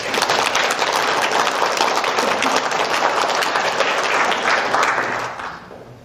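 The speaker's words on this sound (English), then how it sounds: "Let's give Sandy another round of applause." An audience applauds loudly and continuously, the clapping dense and even before fading out near the end.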